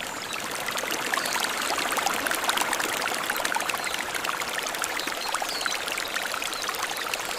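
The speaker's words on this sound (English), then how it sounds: "The mountain water that flows through a wasabi farm supports an entire ecosystem" Mountain stream water flowing through a wasabi farm in Japan, a steady close rushing and pouring flow with fine splashing, continuous and alone.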